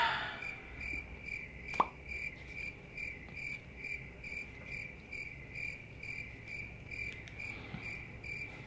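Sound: cricket chirping sound effect

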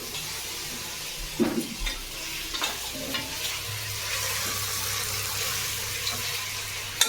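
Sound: tomatoes sautéing in a pan

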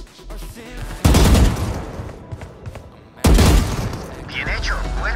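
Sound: gunshots at bots in Valorant training range, video game

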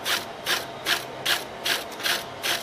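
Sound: screwing down and tightening a generator part

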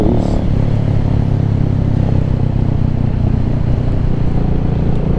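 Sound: Venom Ghost Chopper 250 motorcycle engine on a ride

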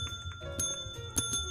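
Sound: bell ringing in Minecraft video game

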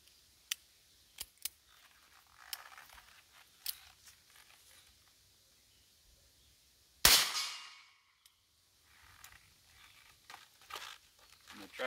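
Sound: Heritage Rough Rider revolver firing rounds outdoors

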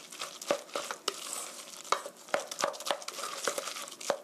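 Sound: stirring flour batter for green pepper pancakes

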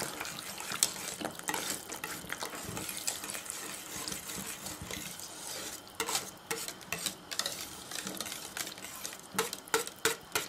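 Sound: quickly stirring butter into hot cream

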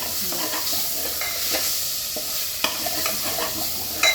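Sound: bottle gourd with coriander being stirred and roasted in pan

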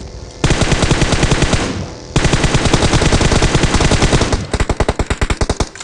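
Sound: gunfire in the video game PUBG Mobile

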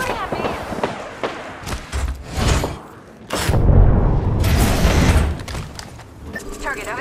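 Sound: gunfire in a video game

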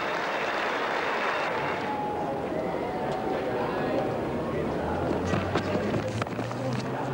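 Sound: cricket crowd applauding at Christchurch test match

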